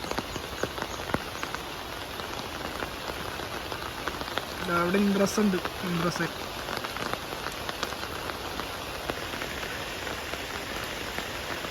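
Steady heavy rain hisses across the whole clip at an elephant camp, with a brief burst of voices in the middle.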